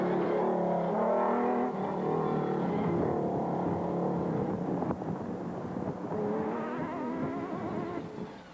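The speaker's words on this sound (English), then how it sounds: "On board with Geneel de Villiers and Francois Jordan in the proudly South African Nissan hardbody." Nissan Hardbody rally truck racing, heard from on board: a loud, continuous engine drone that rises and falls with shifts, with steady road and wind roar underneath.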